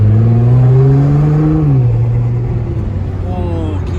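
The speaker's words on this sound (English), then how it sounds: "can you guys hear the turbos on that?" Liberty Walk Nissan GT-R on the road, its engine and turbos rising and falling in a loud, steady whir heard from inside the car, with a voice talking over it.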